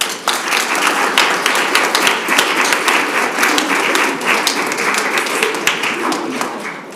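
A congregation at a Friday evening service applauds steadily and loudly for the full stretch, a dense wash of many hands clapping with no gaps.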